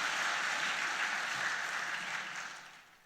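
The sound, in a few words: church congregation applauding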